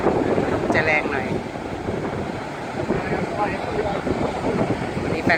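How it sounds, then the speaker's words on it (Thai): Strong wind at the seaside in Melbourne, Victoria, Australia buffets the microphone in loud, continuous gusts, with surf rumbling underneath. "ลมจะแรงหน่อย"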